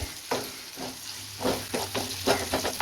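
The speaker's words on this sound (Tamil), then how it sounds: "வெங்காயம் பச்சை மிளகாய் முந்திரி பருப்பு எல்லாமே எண்ணெயில் நல்லா வதங்கி சாஃப்டாகி வரணும்" Onion, green chilli and cashews sautéing in hot oil, a steady close sizzle broken by several stirring scrapes of a spoon against the pan, no voices.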